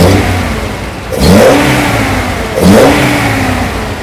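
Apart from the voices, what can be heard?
Datsun 240Z engine revving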